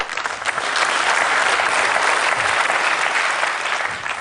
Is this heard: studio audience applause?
yes